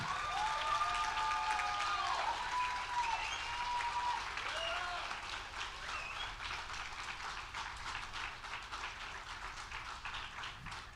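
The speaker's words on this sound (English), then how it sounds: "one more big round of applause for our graduates." An audience gives a big round of applause for graduates at an adult basic education graduation ceremony, dense sustained clapping that starts full and slowly tapers, with no talking over it.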